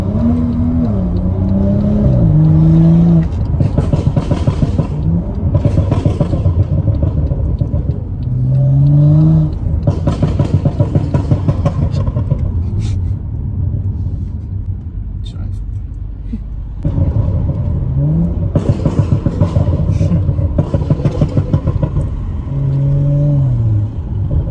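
A BMW 6 Series engine pulls through the gears while driving on the road, with repeated rising revs and shifts and a deep rumble between them, heard from inside the car.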